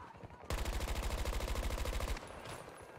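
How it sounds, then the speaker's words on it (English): Automatic gunfire in Battlefield 2042 bursts in abruptly as a rapid, evenly spaced volley lasting under two seconds, then cuts off into quieter game ambience. "Because I was shooting at people below."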